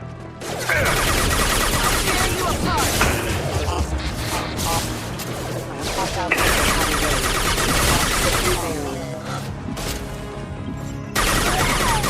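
Sustained crackling gunfire and impacts in Mass Effect 2 combat, rapid volleys close and loud, with a brief break before firing resumes, and voices talking over parts of it.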